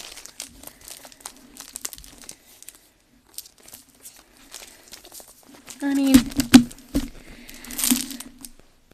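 Stiff paper and material crinkle and crunch while a Dollar Tree photo album DIY is being handled, with a short, loud burst of crumpling after quiet stretches, and a person talking faintly nearby.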